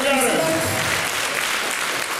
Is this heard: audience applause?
yes